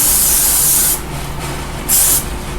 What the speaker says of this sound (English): We need a little spray on that.